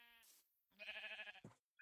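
Sheep bleating in the block-building game Minecraft, a couple of short wavering bleats, fairly faint and isolated in a quiet scene.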